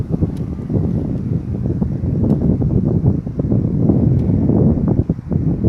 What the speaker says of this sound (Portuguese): que vento gostoso